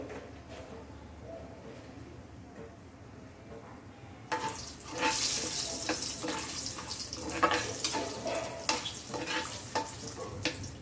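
Bay leaves and whole spices for chicken biryani fry in hot oil in a pan, a steady close sizzle that flares louder midway as more goes in, with scraping stirs.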